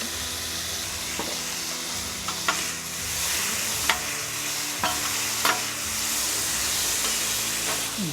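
Diced chipotle and adobo sauce sizzling on a Wildfire griddle for a ribeye steak and eggs breakfast burrito, a steady loud hiss broken by a few sharp scraping clicks of a utensil.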